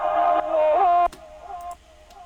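A reversed vocal stab, dry and without reverb, rises as a bright sustained tone for about a second and then cuts off abruptly. Faint ticking follows, all inside a lofi hip-hop arrangement.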